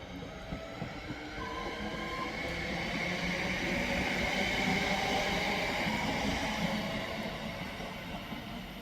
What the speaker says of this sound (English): the 1430 Northern service to Manchester Piccadilly is now departing